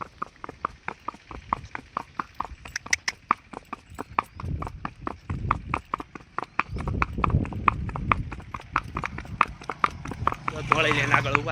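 Horse hooves clip-clop in a steady brisk rhythm as a mare pulls a buggy along a road, close and distinct, with wheel rattle and road noise growing louder toward the end.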